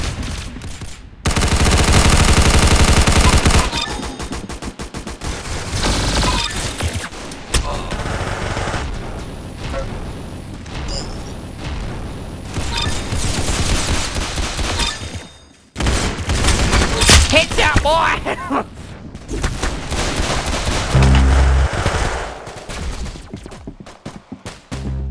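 Roblox Arsenal gameplay delivers loud, rapid bursts of automatic gunfire and fusillades in dense clusters separated by brief lulls, with some talk now and then.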